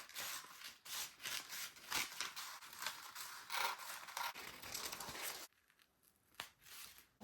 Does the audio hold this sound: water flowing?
no